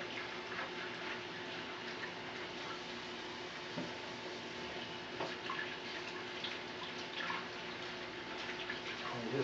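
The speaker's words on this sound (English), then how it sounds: "Just wash that dirt off these carrots." Carrots rinsed of dirt under running tap water, a steady wash of water with small splashes and clinks, close and fairly quiet throughout.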